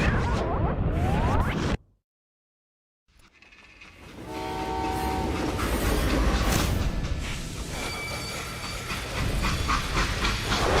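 Freight train in the Western video game Call of Juarez Gunslinger: a loud, steady rumble of rolling rail cars with a whistle-like tonal blast, which starts after a brief cut to silence and carries on to the end.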